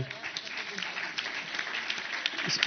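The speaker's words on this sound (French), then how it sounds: "je vous demande d'applaudir Stéphane Dio" Audience applauding a speaker at a panel on African and European cities facing climate change, fairly faint, even clapping with some crowd murmur mixed in.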